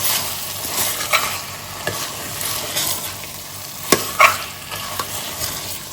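Beef sizzles in a hot pan with onion and tomato for a Goan red masala curry, a constant close frying hiss broken by several sharp scrapes and clatters of a spoon stirring against the pan.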